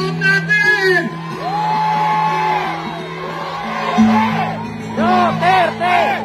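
A large crowd shouts and whoops together at an outdoor solidarity walk in Davao, loud, sustained cheering with overlapping yells rising and falling throughout.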